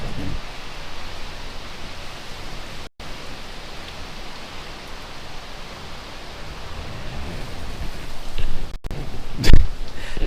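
Heavy storm rain in Nicaragua captured through a window, a dense steady hiss that stays even for about ten seconds, with a brief sharper rustle or knock near the end.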